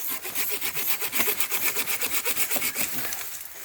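A handsaw cutting through wood during agroforestry pruning, rapid back-and-forth rasping strokes in a steady rhythm of roughly three per second, close and clear with no speech.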